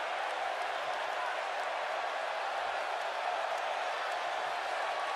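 A packed wrestling arena crowd roars and cheers during ring entrances at a televised event. A dense, unbroken wall of cheering holds at an even level throughout, with no clear single voices.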